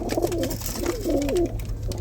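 Pigeons coo in soft, rolling, low phrases, close by aboard a ship, over a constant low hum, with no talking.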